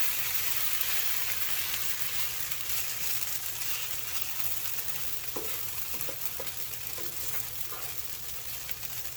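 Hash browns fry in a pan with a steady, close sizzle that holds evenly throughout, with a few faint scraping clicks partway through.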